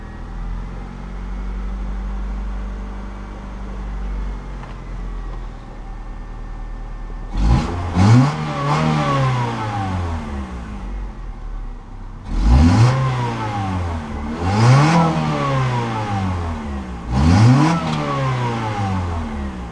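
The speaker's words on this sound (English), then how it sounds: "this should start right up." A 2000 Honda Civic with a D1.6 engine, suspected coolant temperature sensor fault, cranks and catches, then gives three sharp revs, each rising and falling back to idle, close by with no talking.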